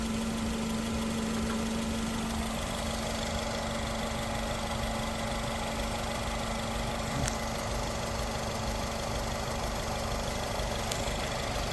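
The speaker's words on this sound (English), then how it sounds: "I left the engine on, as you can hear, the engine is on right now" A 2012 Nissan Sentra with a CVT transmission idles steadily after a drive, a constant low engine hum and vibration with no speech, heard up close throughout.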